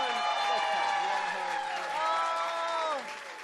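A stand-up comedy audience greeting comedian Sean Hollenbach as he comes on stage: a steady wash of clapping mixed with whoops and cheering voices. The applause fades a little toward the end.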